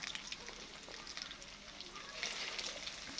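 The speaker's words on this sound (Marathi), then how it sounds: "ही स्पेशल मच्छी कंटके फ्राय हा तयार होत आहे" Fish kantaki frying in a pan over a high flame, a faint steady crackling sizzle with fine popping spatter that grows slightly louder toward the end, with no speech.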